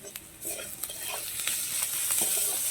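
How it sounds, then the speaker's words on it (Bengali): Chicken in masala with ginger paste sizzles in a pan for chicken cutlets, with steady frying hiss and occasional spatula scrapes and taps during close-up stirring. "ভালো করে এটাকে মশলাটাকে কষে নেব"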